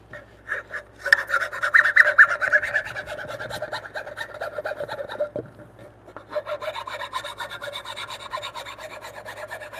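A chisel pares wooden tenons, 5.5 inches long, for joinery: close, continuous rasping and scraping strokes that rise and ease in intensity, with a brief pause before the paring resumes. No one speaks.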